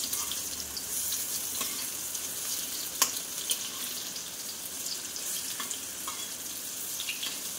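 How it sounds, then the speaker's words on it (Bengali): Fritters fry in oil in a pan, a soft continuous sizzle and crackle with a few faint clinks, close but quiet, with no voices. "কটা বড়া আমি দেব সে কটা ভেজে নিলাম"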